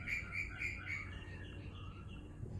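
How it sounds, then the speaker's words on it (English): A bird chirps in a short, repeated run of bright calls that fade out, faint and somewhat distant, with a steady outdoor hum underneath and no voices. "okay, there's a noisy bird."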